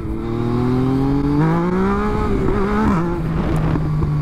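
A Yamaha MT-09 motorcycle engine revs steadily and loud at close range, its pitch climbing and holding with a brief dip and rise near the end, with no one talking.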